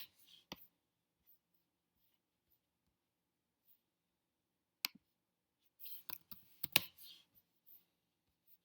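Sparse computer mouse clicks while drawing a TV stand design in Google SketchUp: single sharp clicks early, then a quick cluster of several clicks near the end, over near silence.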